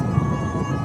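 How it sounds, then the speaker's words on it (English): A National Police motorcade escort siren at a presidential swearing-in, a brief, steady wailing tone held close and loud over a rumbling traffic background. "The escort in front of me, which you can hear the siren"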